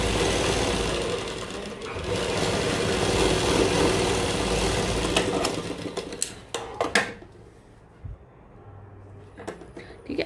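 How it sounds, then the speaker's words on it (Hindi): An electric sewing machine stitches the upper neckline of a plain-fabric kurta with a steady, dense whirring run for several seconds, then stops into scattered clicks and handling noises. "ऊपर की तरफ सिलाई लगा लेते हैं"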